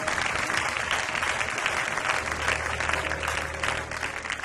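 Congregation clapping and acclaiming during a church sermon, a steady wash of applause holding for several seconds at moderate level and tapering slightly near the end.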